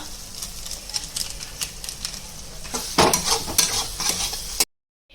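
Mushrooms frying and being stirred in a hot pan, a steady sizzle with scraping utensil strokes that grow busier midway before cutting off to silence near the end.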